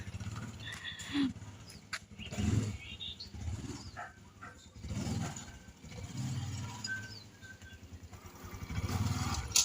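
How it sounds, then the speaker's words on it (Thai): A manual-gear motorcycle runs with a low, uneven engine rumble that rises and falls as it is ridden. People talk throughout over the engine. "ให้แกหัดขับมอไซค์เกียร์"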